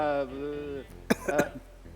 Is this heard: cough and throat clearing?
yes